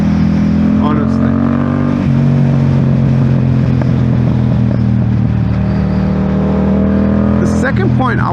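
A 2023 Yamaha MT-07 motorcycle engine hums steadily and loudly while riding, a continuous close drone with a slight shift in pitch partway through, and a voice is briefly audible over it.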